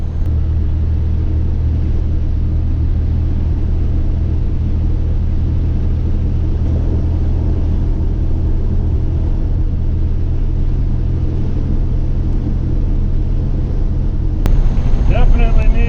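A 1985 Chevy C10 pickup engine on the road, a steady loud low rumble with wind and road noise throughout and a brief sharp knock near the end.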